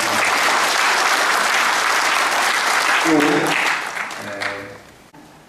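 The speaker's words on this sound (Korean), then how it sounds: "제가 한 분 한 분 소개하지 못하는 거 박수로서 환영하겠습니다. 박수 감사합니다." An audience at a Korean memorial ceremony applauds in welcome, loud and steady at first, then thins out and fades while a voice speaks over the tail end.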